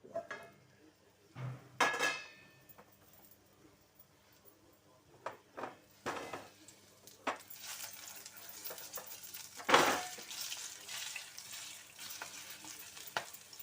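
Green chillies stuffed with gram flour sizzle in an oiled pan, the frying building from a quiet start into a steady crackle, punctuated by metallic clinks and scrapes of stirring and turning, with no talk.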